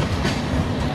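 WAP-7 electric locomotive hauling the Paschim Express on a Himachal route in the Trainz Simulator game, a steady loud rumble of rolling wheels and wagons, continuous through the short moment with no talk.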